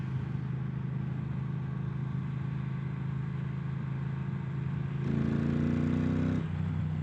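Triumph Thruxton 1200 motorcycle engine running steadily, then revving up sharply near the end with rising pitch toward the red line before dropping back, fairly close and alone with no talk.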